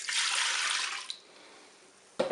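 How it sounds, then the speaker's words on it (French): Milk pouring into the bowl of a Cookeo multicooker, a smooth hissing stream for about a second that then drops to a quiet trickle, followed by a short clunk. "Je verse le lait dans la cuve."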